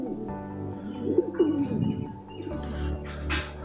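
Pigeons of the Madras breed coo in a soft, broken run, nearby but fairly quiet, with light rustling and a few faint chirps around them.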